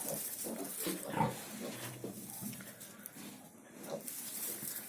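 Three-day-old piglets, freshly tail-docked and given iron, shuffle under a heat lamp and let out soft, scattered grunts over a low background hum.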